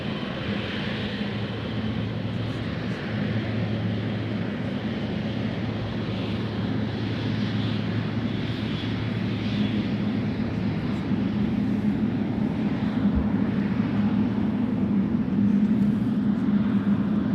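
GE90 jet engines on an airliner at San Francisco International Airport produce a steady, moderately distant rumble with a low hum and a faint high whine, slowly growing louder toward the end.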